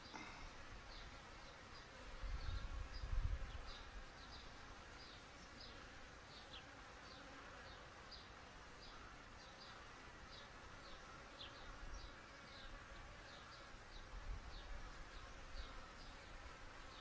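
A steady swarm of honey bees buzzing continuously, fairly faint, with a few low thumps and bumps in between, while a queen is being marked.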